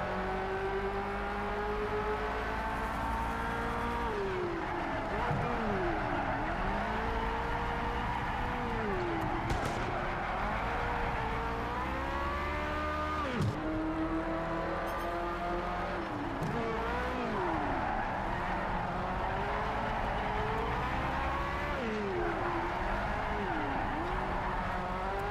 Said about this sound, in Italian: Ma sta macchina va tutta di traverso.